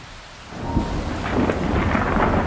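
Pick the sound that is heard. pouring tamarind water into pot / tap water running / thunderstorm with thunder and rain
thunderstorm with thunder and rain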